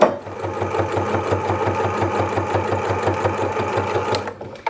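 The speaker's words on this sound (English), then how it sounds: "and sew through that. to the next edge and just pivot again." Close, loud sewing machine stitching a harvest apron, a fast, even mechanical chatter of needle strokes running steadily almost the whole time before stopping near the end, with no voices.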